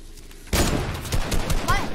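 Sniper rifle shots fired in a video game, a sudden loud burst starting halfway through with sharp repeated cracks and continuous gunfire clatter, with a voice talking faintly underneath.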